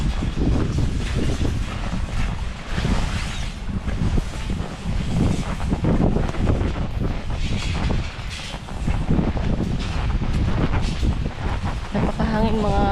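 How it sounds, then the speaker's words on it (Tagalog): Strong wind outdoors on the way to a bahay kubo hut, buffeting the microphone with heavy low rumbling gusts that rise and fall for the whole stretch, while a voice speaks briefly near the end. "Napakahangin mga kaibigan"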